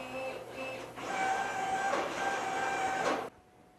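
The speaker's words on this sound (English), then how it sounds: "The rack and pinion will allow us to drive the router up to" CNC router milling a Native American flute, a steady mechanical whine with tonal motor hum and shifting pitch, moderately close, cutting off abruptly near the end.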